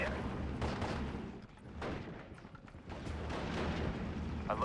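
Mortar fire in Steel Division: Normandy 44 battle gameplay, a quiet stretch of distant thuds and crackling bursts with a soft lull in the middle, no voices.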